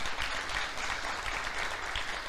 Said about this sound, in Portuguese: Você pode aplaudir o Senhor pelo ministério das nossas crianças?